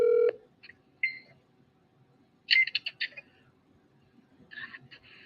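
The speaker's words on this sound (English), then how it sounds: "Let's dial a 3rd time." Tones from an iPhone dialing a call: a brief loud opening tone, then scattered short electronic beeps in small clusters, fairly close and clear against a quiet background with no talking.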